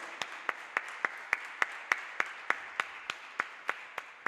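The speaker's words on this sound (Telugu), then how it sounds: "హల్లెలూయా, గట్టిగా చప్పట్లు కొడతాం." A church congregation at a Sunday service claps loudly in unison, a steady rhythm of about fifteen sharp, evenly spaced claps with no talking over them.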